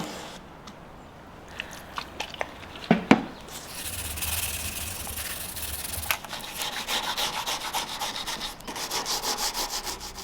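Rough rubbing and sanding across the wooden surface of an antique dresser while paint is stripped off, starting with a few sharp knocks, then continuing as steady back-and-forth scraping strokes close to the mic.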